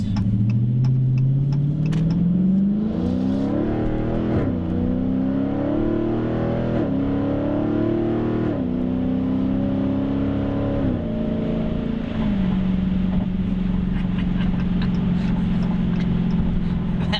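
A 2021 Dodge Challenger Scat Pack T/A engine accelerating onto a highway, revving up through several gear changes with rising drone and brief drops between shifts, then settling into a steady cruise, loud and close from inside the cabin.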